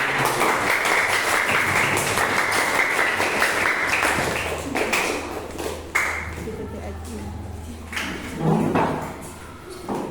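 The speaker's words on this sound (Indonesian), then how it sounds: "Tepuk tangan untuk kelompok pertama" A classroom claps for a presenting group, with loud steady applause at first that thins into scattered claps, thumps and a sharp ping, while voices murmur underneath.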